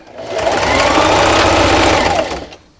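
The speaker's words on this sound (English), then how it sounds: "sew all the way down the length of my row, backstitching at the end" A sewing machine whirs steadily for a couple of seconds while backstitching and sewing down a T-shirt quilt row, a loud, close mechanical hum that ramps up and then stops.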